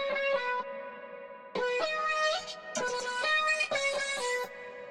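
Vocal chop layer pitched up an octave and sliced into short bursts, with bright, choppy stuttering phrases and gaps over a distorted, effected backing, no speech.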